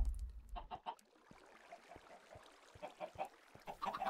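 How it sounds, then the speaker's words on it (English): Minecraft chickens cluck in short, repeated bursts over a busy game soundscape, fairly faint and close with no talk. "So, we have the chickens under here."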